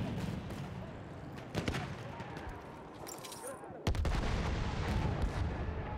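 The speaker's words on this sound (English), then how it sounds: "Oh, the vehicle blew up." Vehicle explosion in the Battlefield 1 video game: a loud, sudden boom erupts about two-thirds through, amid ongoing bursts of distant artillery and gunfire on a wartime battlefield.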